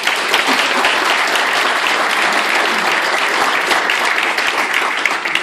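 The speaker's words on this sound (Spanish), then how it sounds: "un aplauso por favor" Loud, sustained applause from an audience fills the room at a physics book presentation, a dense and even roar of many hands clapping with no pauses.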